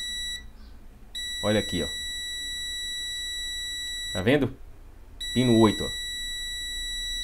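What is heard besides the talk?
multimeter continuity beep on desktop motherboard pin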